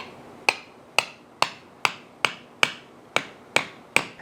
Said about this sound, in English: We're going to pop this in here and very simply just hammer her down.